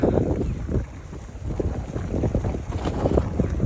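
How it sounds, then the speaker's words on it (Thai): Steady rushing of sea water with low surging washes at the seashore, mixed with strong gusty wind buffeting the microphone; no voices. "เสียงน้ำทะเลนะคะ"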